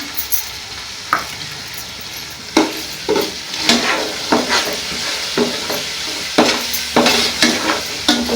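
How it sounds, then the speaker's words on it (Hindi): Chicken pieces coated with salt, red chilli and turmeric are stirred and fried in a pan for haleem. A steady sizzle runs throughout under repeated sharp scrapes and clacks of the spoon, close and fairly loud, with no talking. "चिकन की हमने अच्छे से भुनाई करनी है।"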